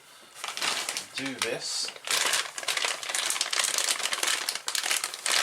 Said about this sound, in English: Now I can get rid of the cellophane.